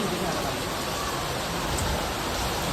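Steady rain hissing continuously, a dense even wash of noise with no clear breaks, fairly close and moderately loud.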